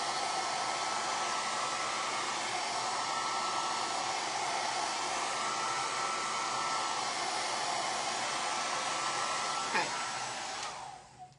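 A hair dryer blows with a steady, loud whooshing hum for about ten seconds before being switched off near the end.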